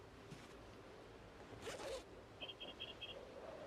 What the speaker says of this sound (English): noise that the pencil case makes.